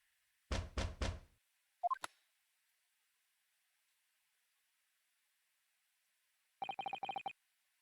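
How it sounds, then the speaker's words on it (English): A telegram boy knocks on a door in the video game The Great Ace Attorney Chronicles: three heavy, quick knocks heard alone, followed later by a short burst of rapid text-blip sounds. "I was woken by the unreserved knocking on the door by the telegram boy"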